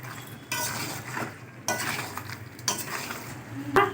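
Chicken with ginger paste stir-fried in a pan, with a spatula scraping and turning the pieces in irregular bursts over a low sizzle, close and moderately loud, with no talking.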